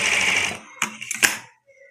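A sewing machine stitches trouser fabric in one short, close whirring run that stops abruptly, followed by a few sharp mechanical clacks.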